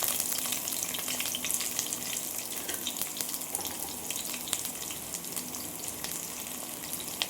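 Chopped large onions frying in hot oil for a quail egg and mushroom gravy, a steady dense sizzle running unbroken and fairly loud throughout with no voices.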